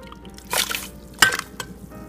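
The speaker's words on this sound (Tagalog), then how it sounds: "Kapag kumukulo na po, ilagay na po natin yung baboy." Pieces of pork dropped into a pot of boiling water on a stove, a few close splashes and sloshes with a sharp clink of metal, heard alone.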